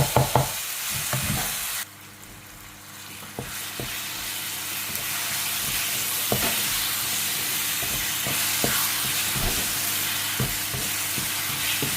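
Eggplant stir-fries in a hot pan with ginger, a loud steady sizzle and hiss broken by scraping stirs and clinks of the spatula, continuous and close with no talking.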